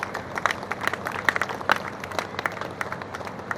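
A small crowd at a temple anniversary celebration claps for a few seconds of steady, moderately loud applause made of many overlapping hand claps.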